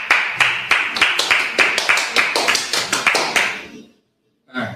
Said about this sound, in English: I'll clap it up for you.